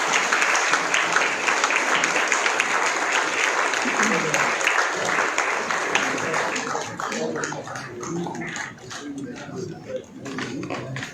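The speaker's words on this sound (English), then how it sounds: "May we have a round of applause for all our farmers" An audience claps for farmers at an organic cotton summit in a Nagpur hotel, dense applause that thins into scattered claps as a voice begins speaking over it.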